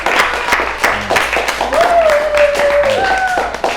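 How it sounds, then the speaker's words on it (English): Loud, close audience clapping at a performance arts camp interview event, with voices calling out and a sustained whoop over the clatter of hands. "Round of applause for that."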